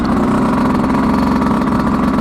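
A Yamaha YZ125X two-stroke dirt bike, a 2025 model on 32:1 premix, runs in second gear with a loud, steady buzzing drone close to the rider and no voices.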